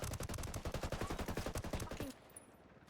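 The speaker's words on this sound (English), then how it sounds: "Who is fucking shooting me?" Rapid automatic gunfire in the video game Ghost Recon Wildlands, a loud, tightly spaced burst of about two seconds that stops abruptly, leaving quiet background.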